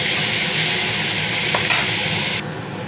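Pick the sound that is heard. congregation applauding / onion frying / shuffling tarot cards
onion frying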